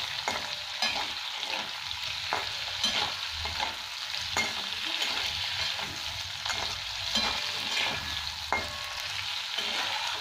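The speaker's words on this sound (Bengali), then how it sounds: "এবার আমি নুন আর হলুদ মেখে রেখেছি চিংড়ি মাছটা ভেজে নিচ্ছি" Prawns coated in salt and turmeric fry in hot oil with a steady, close sizzle, punctuated by regular scraping clicks of stirring. No one speaks.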